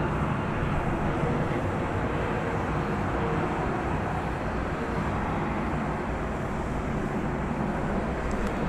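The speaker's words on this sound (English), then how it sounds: "Here comes a Frontier flight from Las Vegas." Frontier Airbus A320neo jet arriving from Las Vegas at DFW airport at night, a broad, steady roar of jet engines filling the scene, loud and unbroken, with no voices.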